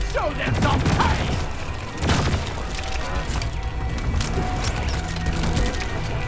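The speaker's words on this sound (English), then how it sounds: "That is the sound of a MKII attacking our friendly bot." Deep Rock Galactic combat with a MKII enemy attacking a friendly bot, dense booms, crashes and mechanical clatter in a busy gunfire-laden mix, with brief voices in the background.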